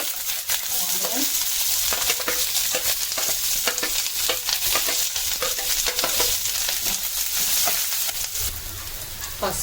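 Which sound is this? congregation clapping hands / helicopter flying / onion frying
onion frying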